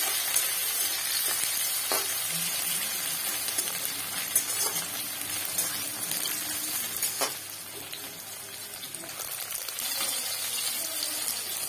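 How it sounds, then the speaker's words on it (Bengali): Onions and chili frying in a pan for a mustard fish curry, a constant dense sizzle with a few sharp spatula taps and faint stirring, continuous and close. "আমি এখানে পেঁয়াজ দিচ্ছি, একটা বেশি একটু পেঁয়াজ দিয়েছি।"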